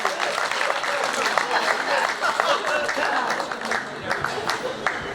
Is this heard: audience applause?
yes